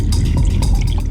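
Water pours into a glass in a short, close, bright trickle that lasts about a second over low background noise.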